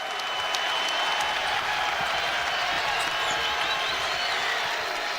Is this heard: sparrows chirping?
no